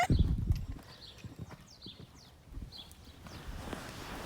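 Horse hooves thud in a rolling, uneven rhythm on soft ground, fairly close, with faint birdsong chirping in the background.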